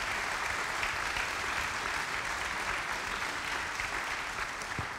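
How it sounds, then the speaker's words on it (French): Audience applause fills a room at a management talk on managerial courage, a steady, dense clapping that stays loud and even throughout without voices on top. "Merci, on peut vous applaudir."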